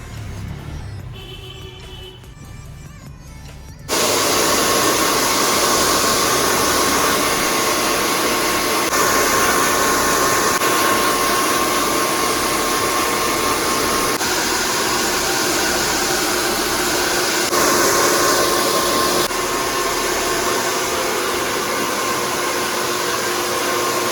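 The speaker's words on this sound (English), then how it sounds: "then I would be blast drying my hair" A hair dryer blasting steadily on freshly coloured hair at home, starting after a quieter few seconds and then running loud, close and unbroken, with no talk.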